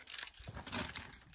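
A bunch of keys is snatched up and jangles in several quick metallic bursts at close range, heard on a steep job site alongside a van.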